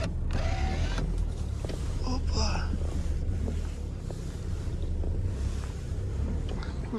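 A car drives through deep flood water around a house in Aktobe, with a continuous rushing, churning wash of water and a low engine rumble, plus wind buffeting the microphone.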